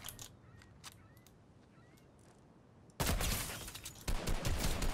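Fortnite gunfire starts abruptly after a quiet stretch of faint game sounds, with a loud, dense burst of shots, a brief dip, then a second heavy volley close by.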